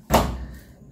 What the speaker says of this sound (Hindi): दरवाजा खोल दिया